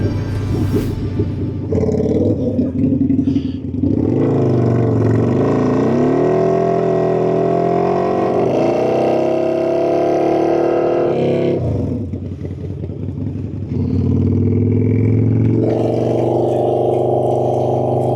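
A Harley-Davidson V-Rod motorcycle rides on a cold road after rain, its engine rumbling loud and steady with rising and falling revs as it shifts, no voices.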